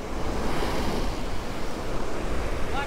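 Ocean surf breaks steadily on a beach during surf fishing, a loud continuous wash of waves with wind buffeting the microphone and no pauses.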